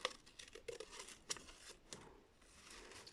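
Scissors snip paper shapes out of a sheet close by, giving a few faint, quiet crisp cuts and paper rustles spread out between soft pauses.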